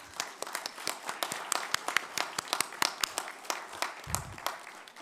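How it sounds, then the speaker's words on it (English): Audience members at a press club luncheon clap for the head table, a loose scatter of individual claps, fairly distant, some sharp and distinct, sustained without pause. "And now if you want to applause for our head table"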